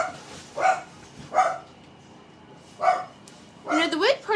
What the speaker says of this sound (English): They're just barking because my husband just got home.